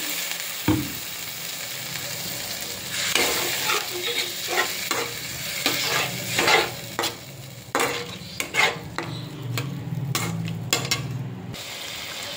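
Spices sizzle in a pan after a little water is added, with an uneven crackling hiss broken by repeated scraping and stirring strokes, close and fairly loud, with no talking.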